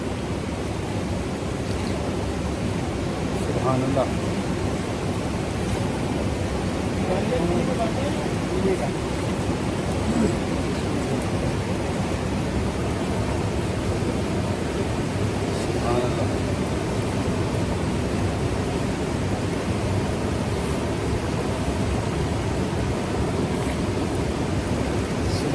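Water from a mountain spring in a high valley rushes steadily and loudly close by, a constant broadband wash with no breaks. A voice speaks briefly over it.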